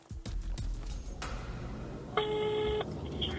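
Telephone call being dialed: a few faint clicks, then a steady electronic tone sounds for under a second, over a quiet background hum.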